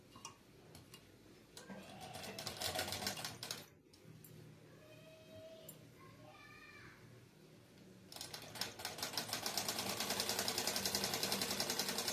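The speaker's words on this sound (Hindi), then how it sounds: "दोनों साइड से सिलाई चला लेंगे" A sewing machine stitches both sides of a katori blouse in fast, even bursts of close mechanical ticking, pausing midway amid faint background chirps before running again steadily.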